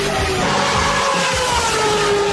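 A Mazda 20B three-rotor rotary engine revs in a steady, loud, close drone, its pitch climbing slightly through the short burst, with no talk over it.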